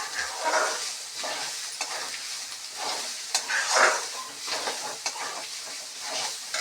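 A spoon keeps stirring ginger paste through bitter gourd curry that sizzles steadily in a hot pan, with a soft continuous hiss and scraping motions close by.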